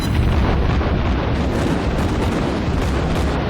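A South Carolina battleship in World of Warships fires all its guns in a salvo, a continuous dense rumble of heavy booming blasts with no pause, loud and close.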